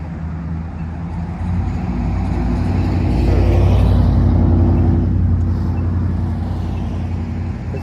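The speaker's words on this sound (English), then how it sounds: "It's honestly kind of annoying how loud vehicles are, especially when I'm trying to record a video" Loud road traffic passes close by, a steady rumbling roar of engines that swells toward the middle and eases off slowly, with no voices.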